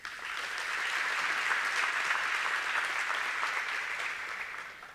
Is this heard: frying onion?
no